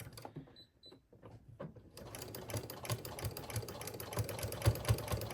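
A sewing machine runs steadily along the edge of a giant tote bag's strap made from dish drying mats, stitching about 1/8 inch in; after a few quiet taps and pauses, the motor's continuous close, loud whir sets in.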